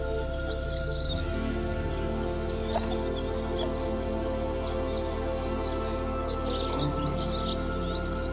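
Migrating sparrows chirping, with short bright calls scattered over a steady outdoor backdrop and a constant low rumble. The chirps come in small clusters near the start and again near the end, with no voices.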